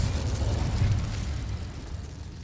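Confringo fire-blast spell cast in the Hogwarts Legacy video game, a continuous rumbling, booming burst heavy in the low end that rolls on steadily and fades only slightly, with no talking.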